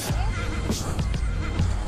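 A horse at an outdoor Christmas party gives a neigh amid a noisy crowd, with people talking over the sound and constant loud background chatter and bustle.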